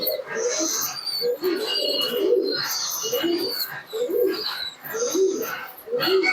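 Rampuri and other fancy pigeons coo repeatedly in low, throaty bursts, overlapping one another close by, with brighter chirps and rustling mixed in throughout.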